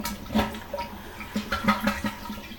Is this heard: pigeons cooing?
no